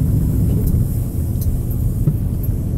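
A truck passes along a street in Green Cove Springs, Florida, near City Hall, giving a steady low engine rumble close by with no talk over it.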